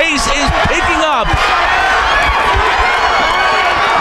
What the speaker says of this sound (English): the crowd is chanting Sarah